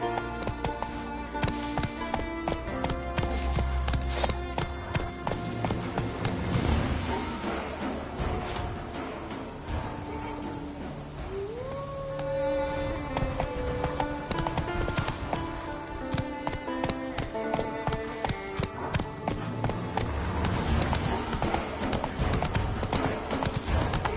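Roach the horse gallops in The Witcher 3 Wild Hunt, a rapid, steady clip-clop of hooves close and loud across the whole stretch, with game music and effects layered underneath.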